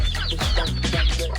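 Darag native chickens on a farm cluck in short, repeated bursts, close and fairly loud over a steady low background hum, with no talking.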